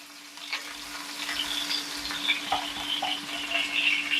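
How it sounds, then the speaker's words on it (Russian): Steady oily sizzle of chicken frying in two spoonfuls of oil in a pan, crackling and popping throughout at close range, with a faint constant hum underneath and no voices. "Ну вот, ребята, мы обжарили курочку со всех сторон."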